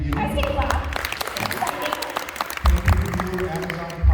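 An audience at a Spooky Empire horror convention Q&A panel applauds, a diffuse spread of clapping mixed with crowd noise and speech, swelling louder toward the end.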